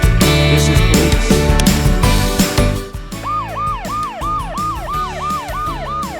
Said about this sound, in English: Police car catches criminals.